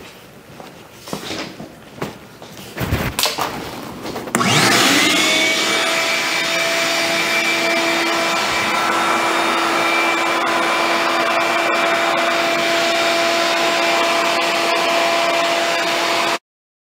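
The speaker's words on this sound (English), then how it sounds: "for dust extraction on this, I'm just using the shop vac with a dust deputy" A shop vac fitted with a Dust Deputy cyclone separator and a Rockler hose fitting collects dust in a woodworking shop. A few knocks and handling clatter come first, then the vacuum starts with a surge and holds a loud, steady roaring whine.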